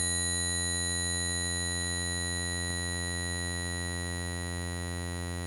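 A saw wave run through the SpecCraft spectral compressor holds as a steady, buzzy tone rich in evenly stacked harmonics, unchanging and fairly quiet for several seconds with only a tiny click midway.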